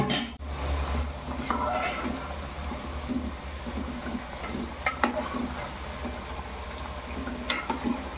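Chicken rassa curry cooks in a pot on a home stove, giving a steady low bubbling and faint sizzle with occasional stirring clinks, while a voice talks over it throughout.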